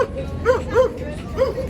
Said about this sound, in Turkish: Bu köpek peşimize takıldı bu arada.